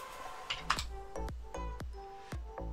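A Google search being typed on a computer keyboard: a handful of distinct, separated key presses at an uneven pace, close and clear in a quiet room.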